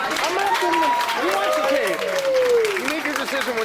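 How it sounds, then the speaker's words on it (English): A crowd claps steadily through a retirement dinner while several voices call out and cheer loudly over the applause. "they deserve another round of applause"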